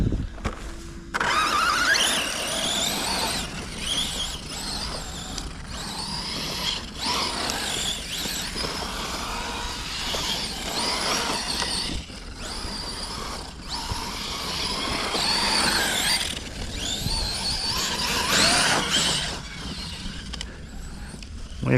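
A radio-controlled model car's motor runs in repeated bursts of whirring and whining, with ratcheting mechanical sounds and brief cut-outs between revs, close by and without speech.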